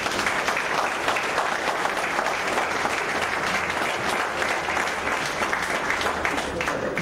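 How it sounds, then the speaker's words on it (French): A crowd at a French political speech gives a long, loud round of applause, a continuous, even roar of many hands clapping from start to finish. "Je vous demande de les applaudir également"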